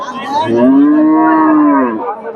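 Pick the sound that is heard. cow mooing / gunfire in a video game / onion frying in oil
cow mooing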